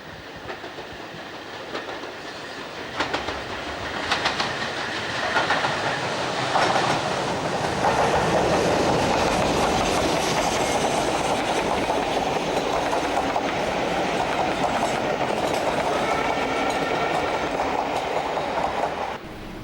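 A steam train on the East Lancashire Railway at Bury rumbles past with rhythmic clickety-clack of wheels on rails, growing louder after a few seconds and holding a steady, close roar.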